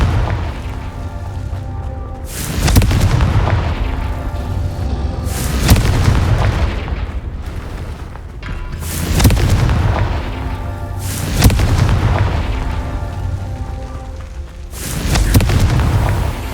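Heavy booming blasts from the Confringo spell in the video game Hogwarts Legacy, roughly five deep explosions spaced a few seconds apart over a continuous rumbling game soundscape, with no voices.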